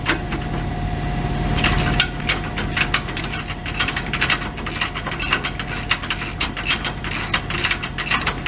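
Hand ratchet working on soaked exhaust bolts of a Peterbilt truck, heard up close as loud quick bursts of clicking with brief pauses between strokes, repeating steadily and alone, with no talk.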